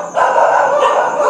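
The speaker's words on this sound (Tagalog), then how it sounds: "Bakit may aso dyan?" A single dog lets out a loud, drawn-out howling bark close by, one sustained cry lasting about a second.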